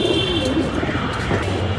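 Pigeons in a loft cage coo in low, soft, rolling calls close by, over a busy background of shuffling and faint noise.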